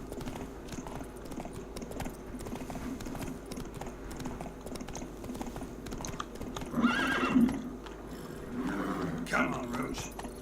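The horse Roach in the video game The Witcher 3, with steady rhythmic hoofbeats of a gallop throughout and two loud whinnies midway and near the end, a voice talking over it.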